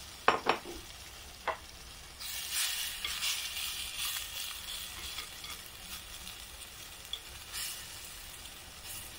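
Beef hits a hot frying pan for a Chinese-style beef with tomato dish: a few utensil clinks, then a loud rush of sizzling that settles into a steady crackle with occasional stirring scrapes.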